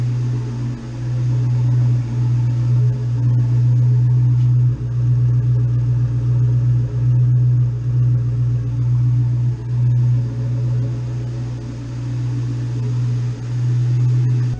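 A Ford Mustang engine, freshly fitted with a new valve cover gasket, idles close by with a loud steady low hum and a faintly pulsing rumble, running alone without speech.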